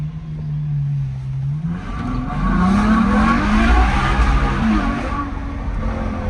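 Ferrari GTC4 Lusso engine: a loud, steady rumble that rises in pitch as the car pulls away and revs, with the note climbing and falling in waves throughout.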